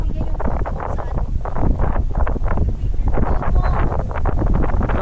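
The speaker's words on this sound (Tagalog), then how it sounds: "Grabe naman, ang lakas ng hangin." Strong gusting wind on a mountain hike at Espadang Bato roars steadily and close against the microphone, a loud low buffeting rumble throughout, with voices faintly mixed in.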